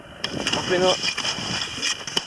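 Gusty wind buffets the microphone on a snowy mountain summit at Høgfjell in a steady rush, with a few sharp bursts breaking through.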